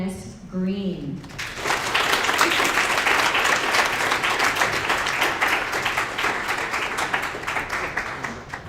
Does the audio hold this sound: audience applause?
yes